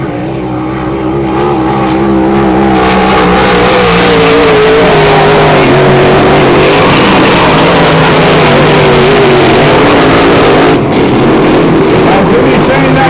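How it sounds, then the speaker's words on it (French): Hydroplane racing boat engine screaming during qualifying at a St-Félicien Grand Prix, a loud sustained high-pitched roar with shifting pitch as the boat passes, under excited French commentary. "Anderson, Patrick, là, qui prend les devants, qui est loin en avant déjà dans cette qualification"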